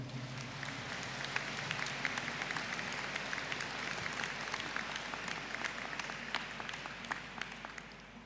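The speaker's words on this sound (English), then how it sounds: "please stand for a collective round of applause" At a university graduation ceremony, the hall applauds Bachelor of Science Honours in Microbiology graduates with a steady, even round of many hands clapping, fairly distant and sustained throughout.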